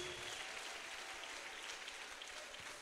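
A church congregation applauds in steady, dense clapping that stays fairly even and moderately quiet throughout, with no voices standing out above it.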